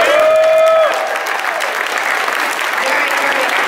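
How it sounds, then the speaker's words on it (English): Loud audience applause at a live concert, a full crowd clapping steadily while a sustained musical tone fades out in the opening second. "So let's give them a big round of applause."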